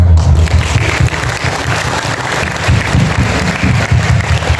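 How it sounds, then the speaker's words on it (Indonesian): Steady crowd applause with dense clapping, fairly loud and sustained throughout, with faint murmuring beneath. "Tepuk tangan."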